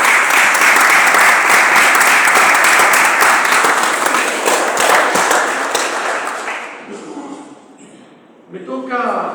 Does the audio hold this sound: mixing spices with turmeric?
no